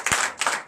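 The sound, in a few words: congregation clapping in acclamation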